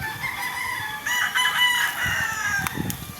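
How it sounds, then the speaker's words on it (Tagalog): A rooster crows loudly nearby, its call rising and stretching out, while hens cluck and scratch softly underneath. "Ang daming manok yan."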